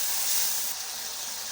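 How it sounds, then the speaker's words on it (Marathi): Mushrooms frying in a pan give a steady, soft hiss and sizzle, heard alone for a brief moment. "मशरूम पण त्यात छान असे फ्राय करायचे."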